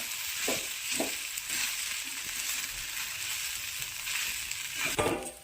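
Sabudana khichdi with a peanut and chili mix is stirred in a hot pan: a continuous soft sizzle with a few distinct scraping strokes near the start and one more near the end, no talking.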